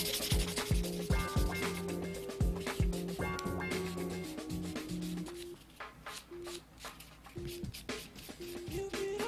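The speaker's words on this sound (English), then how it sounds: "Okay, then go through with your buffer." Brisk rubbing and sanding strokes of a nail buffer on acrylic nails, close and repetitive, heard under music with a bright tonal melody throughout.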